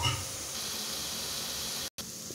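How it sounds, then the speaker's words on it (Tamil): Onions frying with green chilies and dried red chilies in a pan over medium flame hiss in a steady, close sizzle. A brief cut of silence interrupts it just before the end. "வெங்காயம் இப்போ வதங்கிட்டு இருக்கு"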